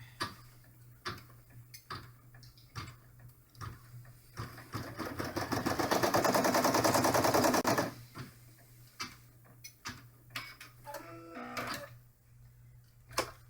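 An embroidery machine stitches a placement line for a small window on an in-the-hoop felt dollhouse bag, its needle ticking in quick bursts that swell into a steady, louder run of rapid stitching before tapering back to scattered clicks.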